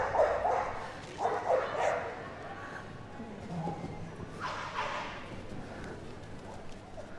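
Staffordshire Bull Terriers barking at a dog display in a large arena, a few short barks in bursts over crowd murmur and announcer talk.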